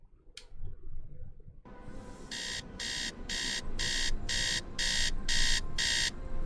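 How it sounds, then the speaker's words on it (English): Repeated electronic alarm beeping from the robot BBX in the video game Tales of the Neon Sea, eight evenly spaced bright bursts over a steady background hum after a brief click. "Beep, beep, beep. Wakey, wakey. It's time to get up."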